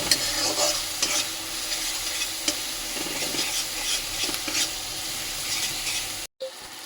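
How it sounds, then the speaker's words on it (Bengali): Ground spices being stirred into frying onions in an oiled pan, with a continuous close sizzle and repeated scraping strokes of a spoon, then a brief cut to silence near the end. "এবার ভালো করে পেঁয়াজের সাথে মশলাটাকে ভালো করে মিশিয়ে নিয়ে"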